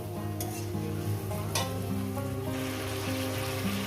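A spice paste fries and sizzles in a pan for a thin rohu fish curry with drumsticks, stirred steadily with occasional scraping clinks, close and continuous over a steady background hum.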